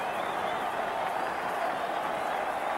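A stadium crowd roars steadily after a try at a Widnes v Wigan rugby league match, a dense, continuous wall of cheering and clapping from a large crowd that holds without a break.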